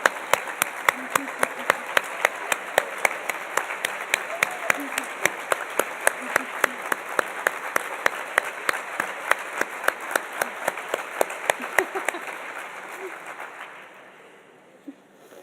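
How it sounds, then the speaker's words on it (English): Family members and friends stand in a large audience applauding at a physical therapy white coat ceremony, a dense, steady round of clapping that holds for about twelve seconds, then thins and fades out into near silence. "let us recognize you with a round of applause"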